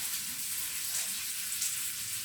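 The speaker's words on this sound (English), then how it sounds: "That's where we are going to fry the onions so that we can prepare a stew." Onions fry in a pan as the base for a meatball stew, giving a soft, even, continuous crackle and sizzle at low volume with no other sounds over it.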